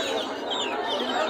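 Cochin chickens cluck briefly at the Mirpur pigeon and bird market in Dhaka, a short burst of hen calls amid busy crowd noise.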